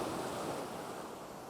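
Ocean surf washing onto a beach with clear water, a steady broadband rush of breaking waves with some wind, unbroken for the short stretch and with no voices.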